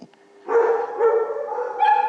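Dogs in an animal shelter bark and yip in a steady, fairly loud run of overlapping calls that starts after a brief quiet moment, several dogs sounding at once with no talking.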